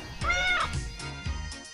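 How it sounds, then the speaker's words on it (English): A cat meows once, a clear rising-and-falling cry up close, with a few softer noises and a faint voice-like murmur after it. "cat videos on YouTube"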